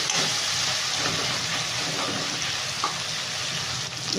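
Two tomatoes frying in a pan, a loud, dense, continuous sizzle that holds steady throughout with no talk.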